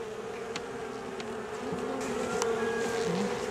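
Honeybees buzzing around a hive during an August honey harvest, a dense continuous drone of many insects close by, steady and without talk.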